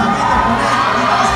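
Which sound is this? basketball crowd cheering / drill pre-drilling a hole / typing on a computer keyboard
basketball crowd cheering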